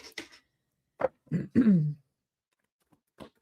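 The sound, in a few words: throat clearing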